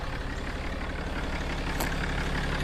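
A Cummins diesel engine idling in a RAM Heavy Duty truck, a low, steady rumble heard faintly and continuously with a brief higher click near the end.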